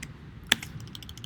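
A single sharp key click on a computer keyboard during a programming session, one isolated keystroke over a quiet room hum.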